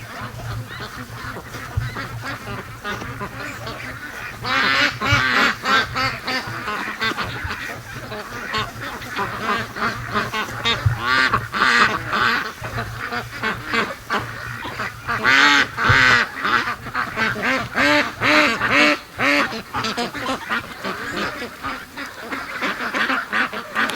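A large flock of free-range ducks and geese, dozens of birds quacking and honking at close range in a loud, overlapping chorus that swells and fades in irregular bursts over a low steady hum.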